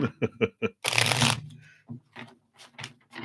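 A deck of tarot cards is shuffled with a handful of quick riffling taps, then a long, loud burst of cards flying and scattering, followed by softer card handling; there is a bit of talk around it.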